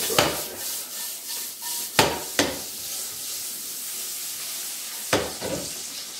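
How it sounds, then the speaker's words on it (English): Pancetta fries in its own rendered fat in a hot pan, a soft continuous sizzle broken by a few sharp scraping or tapping knocks from stirring. "So it's frying in its own fat."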